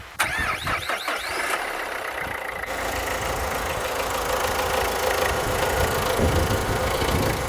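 Renault Clio 3 with the 1.5 dCi diesel engine cranking and starting after maintenance, then settling into a loud, steady, close idle with a knocking diesel clatter.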